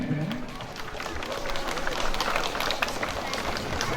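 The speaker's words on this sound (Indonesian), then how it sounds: "Kita berikan tepuk tangan yang meriah kepada Bapak KSPN" Audience at an Indonesian police inauguration ceremony applauds continuously, a dense wash of clapping mixed with crowd babble that holds steady throughout.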